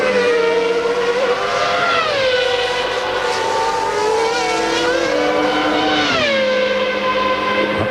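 Formula One cars in the 1995 Australian Grand Prix scream down the Brabham Straight at up to 190 mph: loud, high-pitched engine wails rising through the gears, then dropping sharply as the cars brake.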